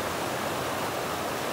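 Constant rushing of creek water, a loud, even broadband wash close by with no talking or breaks.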